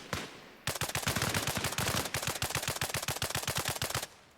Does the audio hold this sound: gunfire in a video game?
yes